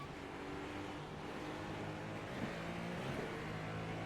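A race car engine in the iRacing sim at Daytona for the IMSA 24 Hours, droning steadily at close range under hard braking, with low harmonic tones shifting as the revs fall.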